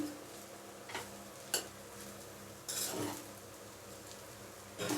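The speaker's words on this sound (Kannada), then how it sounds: "ಅನ್ನದ ಅಗಳಿಗೆ ಅಂಟೋ ಥರ ಚೆನ್ನಾಗಿ ಫ್ರೈ ಮಾಡ್ಕೋಬೇಕು ನಾವು ಹುರ್ಕೋಬೇಕು ಕೆಳಗ ಮೇಲೆ ಮಾಡಿ" Fried rice being stir-fried in a pan, with a soft steady sizzle broken by several sharp scrapes and clanks of a spatula against the pan, moderately quiet and close.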